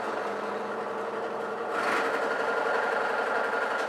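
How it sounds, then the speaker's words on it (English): A power drill bores holes for a lumber rack, a steady high whirring motor that grows louder and harsher partway through as the bit bites in, heard alone. "drill it again to its final depth"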